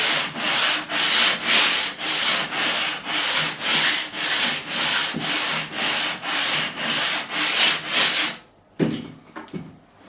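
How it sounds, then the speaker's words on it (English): Wood being lightly sanded by hand with a sanding beam, a regular series of about fourteen rasping back-and-forth strokes, close and even, ending in a few softer scrapes and knocks. "we are going to just lightly sand it"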